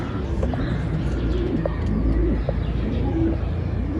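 Several pigeons coo in low, throaty rolls close by, with a few brief chirps mixed in over steady background noise.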